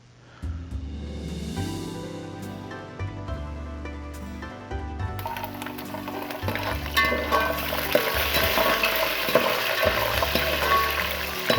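Almonds, pistachios and coconut roast in a pan for zarda sweet rice, giving a quiet crackling sizzle that grows denser and louder partway through, with soft background music underneath.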